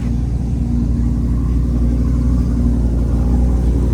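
Low, steady engine rumble from a carbon-trimmed Nissan GTR Nismo at a cars and coffee meet, a constant deep drone with no clear rev rise, close and loud throughout.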